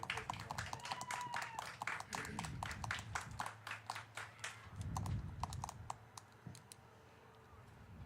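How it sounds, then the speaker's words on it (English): An audience applauds a senior at a Knox Central senior night band event, a dense, steady clapping that thins out toward the end. "Let's give a big round of applause one more time for Knox Central Senior Hunter Troutman"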